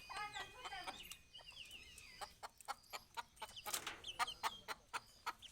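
Hens cluck repeatedly in short, sharp bursts, with bird chatter overlapping, close by and fairly loud.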